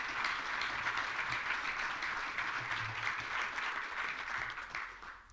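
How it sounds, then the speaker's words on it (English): Audience at a county budget presentation applauding the county sheriff and his team, a sustained, even roll of many hands clapping, heard from a distance and fading slightly at the end. "Let's give them a round of applause."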